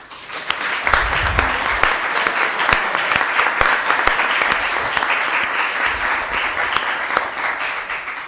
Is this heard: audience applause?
yes